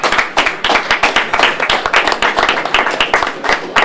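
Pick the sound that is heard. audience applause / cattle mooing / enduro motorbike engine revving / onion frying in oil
audience applause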